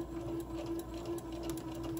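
A sewing machine hums softly and evenly while stitching a seam on a fabric face mask, a faint, steady motor drone with light rhythmic ticks and no talking.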